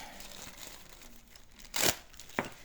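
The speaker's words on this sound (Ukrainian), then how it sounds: "Відкриваємо ще один маленький пакет." A small plastic packaging bag being torn open, a soft crinkling under room noise, then a sharp ripping burst and a brief second tear.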